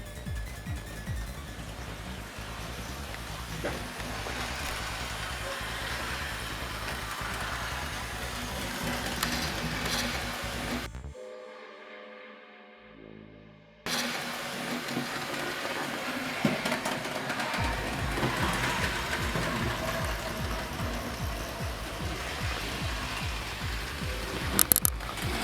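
A model railway train runs a lap of a layout, its wheels clicking and rattling steadily over the track joints, falling silent for a few seconds midway before the rolling clatter resumes close by.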